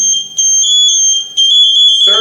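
An MSA G1 motion alarm sounds its second pre-alarm tone: loud, shrill electronic beeps pulsing in quick repeated bursts, with a short gap midway and a voice starting just at the end.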